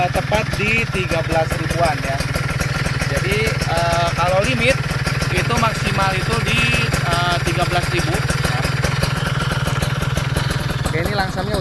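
A Kawasaki KSR motorcycle with a newly tuned carburettor idles at about 1000 rpm, a steady, loud, close engine putter running throughout while someone talks over it.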